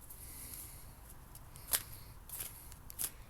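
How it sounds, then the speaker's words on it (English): Tarot cards are shuffled by hand, a few quiet crisp riffles and flicks spaced across a soft background hiss, close to the microphone with no talking. "I'm going to go ahead and shuffle the cards again."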